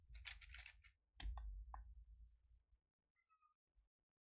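A pet cat meows a few times at close range in a quiet room, with scissor-like snips and small clicks between the calls before it falls silent.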